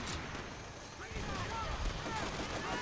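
A heavy weapon is hip-fired in Call of Duty: World at War during the battle for Peleliu. It gives a run of loud, booming shots over continuous battle noise while a voice talks over it.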